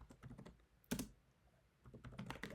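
Bursts of quick keystrokes on a computer keyboard as Python code is typed, with a brief pause and one heavier key thump before the clicking resumes at close range.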